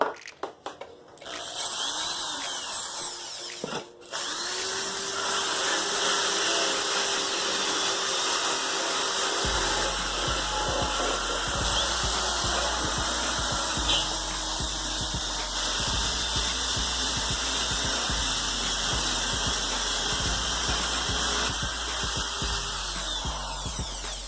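A power sander grinds rust off the metal fan housing of an Atlantic Caribe MK1 motorcycle. It starts with a few short bursts, then runs as a loud, continuous whine for about fifteen seconds, with no talking.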